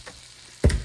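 Butter and maida flour sizzle in a pan for Alfredo pasta, a short quiet hiss at first, then a louder burst of frying near the end.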